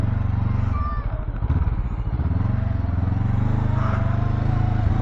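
A Honda CL500 motorcycle on stock exhaust, ridden off-road, gives a steady low engine drone with a dense harmonic rumble that holds close and fairly loud for the whole stretch, its pitch easing slightly as it goes.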